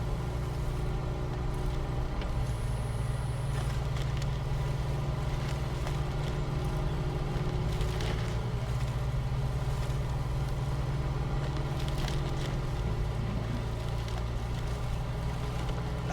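A truck engine in Snowrunner labours through mud on the highway verge, a continuous low droning rumble that rises and falls in pitch as the revs shift, steady and close throughout.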